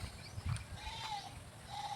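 A faint goat bleats once, a wavering cry over a soft noisy outdoor background near a rice field in the rain.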